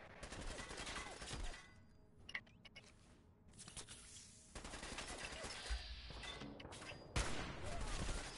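Gunfire in the video game Fallout 4, with repeated loud bursts of shots and bangs spread across the clip, some rapid like a volley, set against game noise.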